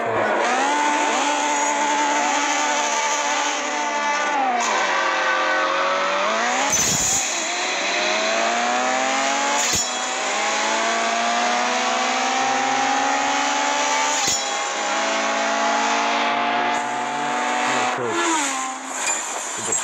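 A Honda Civic Type R Prestige cup car engine in a racing game revs loud and close, sweeping up and down through the gears for a sustained stretch with brief breaks between pulls.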